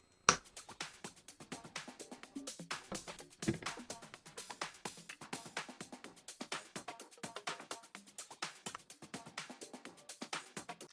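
Sharp percussive clap or snare hits repeat in a quick, steady rhythm, each a short bright crack with a brief tail, looping like a programmed tech house drum pattern.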